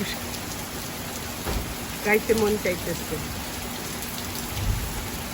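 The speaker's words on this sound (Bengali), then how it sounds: "একদম মুসলধার আজকে অনেক দিন ধরে বৃষ্টি হইতেছে" Heavy torrential monsoon rain pours down steadily during a storm, a dense hiss of close, continuous downpour throughout, and someone speaks briefly and sings a snatch over it.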